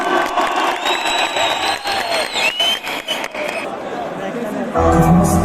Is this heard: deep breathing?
no